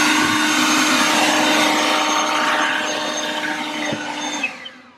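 An EGO 56V cordless electric leaf blower runs with a loud, steady whine and rushing air, then winds down and fades near the end.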